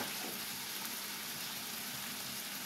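Minced chicken meat frying in a pan over lowered heat, a steady, even sizzle that fills the whole moment without breaks, fairly quiet and with no voices.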